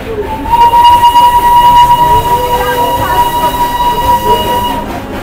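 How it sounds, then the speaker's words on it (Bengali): A Darjeeling Himalayan Railway steam toy train runs out of Darjeeling station toward Ghum, giving a steady, loud rumble topped by a sustained whistle-like tone that holds for several seconds. "ট্রেন দার্জিলিং স্টেশন ছেড়ে ছুটে চলেছে ঘুম স্টেশনের দিকে।"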